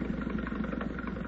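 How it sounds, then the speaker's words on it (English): A landing barge boat engine chugs steadily at a moderate distance, a low droning rumble with no voices, staged as a wartime radio drama effect. "Yeah, I hear the boat."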